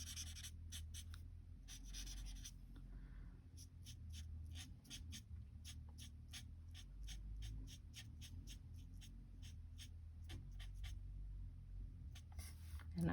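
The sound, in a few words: cutting around a card image for a fun fold card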